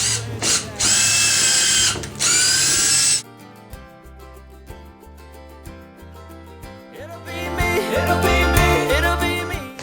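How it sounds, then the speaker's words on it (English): Power drill boring pilot holes into birch wood segments for a holiday wreath, two loud close high-pitched whirring bursts, then quieter clicking and handling, with the drill whining again toward the end. "you're going to get your drill and just do a quick pilot hole in the top at the angle and down at the bottom"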